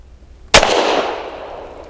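A single sharp, loud gunshot from a Tisas Night Stalker 1911 pistol firing 230-grain steel-case ammunition, with a sudden crack followed by a long reverberant decay; no talking.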